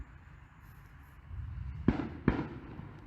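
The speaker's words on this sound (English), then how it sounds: "Oh, somebody's shooting." Two distant gunshots in the woods, sharp cracks about half a second apart, cutting through a low outdoor rumble.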